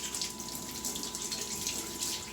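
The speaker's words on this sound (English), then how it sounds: "First, we're going to turn on the water." Water runs steadily from a sink faucet at home, a close, continuous hissing splash with no voices.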